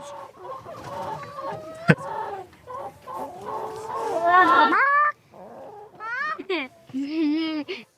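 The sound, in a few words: chicken clucking in a classroom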